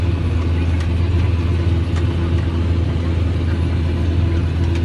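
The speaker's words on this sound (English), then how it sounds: "It's a steam engine with an old spunker drive in it as well." A model steam engine fitted with an old drive mechanism runs steadily outdoors, giving a continuous loud low rumble and chug with no breaks and no voices over it.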